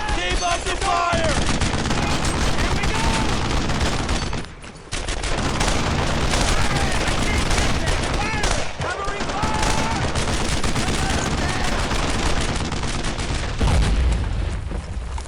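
Sustained heavy gunfire in Brothers In Arms: Earned in Blood, with continuous loud volleys and bursts, a brief lull partway through, and shouting soldiers under the shooting.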